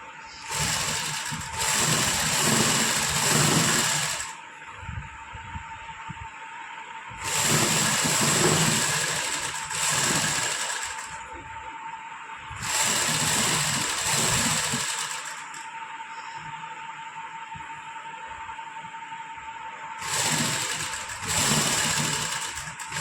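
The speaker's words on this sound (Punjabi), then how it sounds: "ਆਹ ਵਾਲੀ ਲੈਸ ਨੂੰ ਇਸ ਤਰ੍ਹਾਂ ਸਲਾਈ ਲਗਾਵਾਂਗੇ" A sewing machine stitches lace onto the hem of a suit in several loud bursts of steady whirring, each lasting a few seconds, separated by short quiet pauses with no talking.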